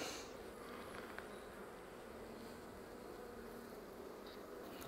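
Honey bees on a hive frame, many of them gathered and hungry, give a faint, steady buzzing hum close by, continuous and quiet with no talking.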